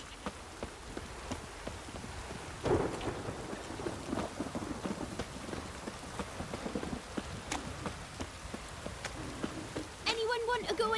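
Steady rain patters over a low rumble of thunder in The Witcher 3: Wild Hunt, with scattered drips and a brief electronic tone near the end.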